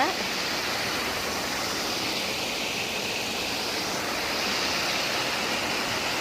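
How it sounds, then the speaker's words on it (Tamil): Steady rushing water flows continuously through a village irrigation channel to the fields, a broad even wash of sound with no talking over it. "வயலுக்கு எல்லாத்துக்குமே இந்த தண்ணி தான் போகுது"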